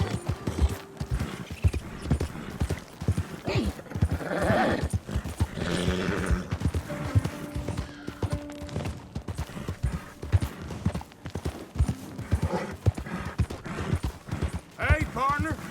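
Steady clip-clop of horse hooves plods along with occasional snorts and a whinny, while people talk over the top, in the video game Red Dead Redemption 2.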